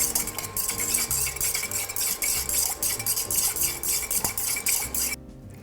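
A utensil stirs melted candle wax mixed with cinnamon fragrance in a container, producing rapid, rhythmic close clinking and scraping that stops abruptly near the end.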